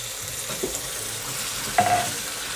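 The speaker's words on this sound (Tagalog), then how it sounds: "Lagyan natin yung sweet and sour." Sweet and sour meatballs with carrots fry in a pan. A constant, moderate sizzle is heard close by, with a couple of brief stirring scrapes and no talking.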